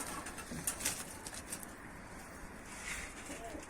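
Tumbler pigeons coo outdoors, faint low throaty coos amid distant ambient noise, with a few brief sharper bird sounds and no talking.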